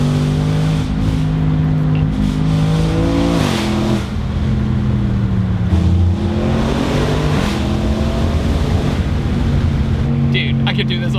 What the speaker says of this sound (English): 3, 2, 1, full throttle, turbo spooled up instantly.